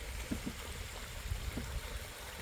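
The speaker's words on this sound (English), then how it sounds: "Look at there, his little waterfall." Small waterfall pouring from a brimming homestead pond after heavy rain, a soft continuous rushing trickle with faint splashes, steady and fairly quiet without talk.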